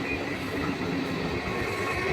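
A train at Baghajatin railway station in Kolkata, a loud steady rumble of rolling wheels and carriages with faint rhythmic clatter, heard from a short distance and continuous throughout.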